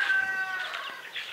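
Chickens and a rooster cluck in a village yard, a steady layered murmur of calls close by with no voices over it.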